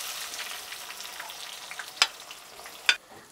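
Chopped onion frying with cumin seeds in hot oil: a soft continuous sizzle with light stirring, broken by two sharp crackling pops near the end, close and fairly quiet with no speech.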